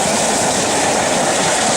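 A train passes close by with a loud, continuous rumble and rattle of wheels on rail, filling the whole stretch without pause.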